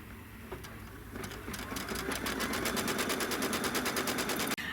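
An embroidery machine stitches a placement line on fabric, starting quietly and settling into a fast, steady, close mechanical rattle of rapid needle strokes that runs to the end.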